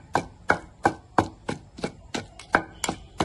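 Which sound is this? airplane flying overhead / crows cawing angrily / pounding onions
pounding onions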